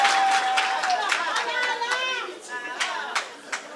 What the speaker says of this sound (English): Can you clap for them from this side?